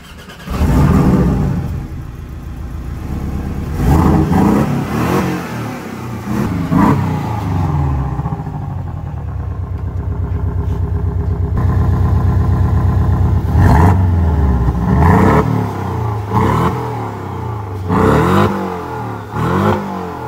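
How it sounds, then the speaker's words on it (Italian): A Porsche 718 Boxster T engine revs hard several times with a modified exhaust, roaring and crackling up and down, loud and close, with a long sustained drone midway. "Sentiamo il sound adesso con lo scarico perché ancora non ve l'ho fatto sentire."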